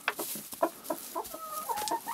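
Hens in autumn clucking as they feed, a string of short close clucks and soft squawks in irregular rhythm with a few drawn-out tonal calls, no talking.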